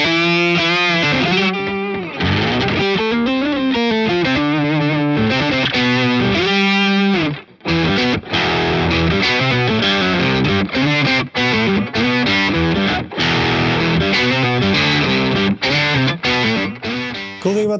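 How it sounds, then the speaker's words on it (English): Loud distorted electric guitar played through a BOSS Polyshifter pedal, notes thickened by a deep lower octave beneath with a little dry guitar, phrases running continuously with a brief pause midway. "we have to hear it with an octave down and maybe a little dry guitar for taste"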